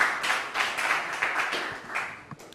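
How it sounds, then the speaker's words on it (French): Applause at a university debating championship, a short burst of clapping from a modest group with distinct individual claps, tapering off within a few seconds. "On peut les applaudir."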